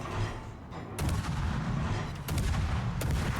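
Naval gunfire in World of Warships as an enemy ship shoots at a Kiev, a tier 8 Soviet destroyer: repeated loud, deep booms under a steady rumble, with broadband blasts near the one-second mark and again around 2.3 and 3 seconds.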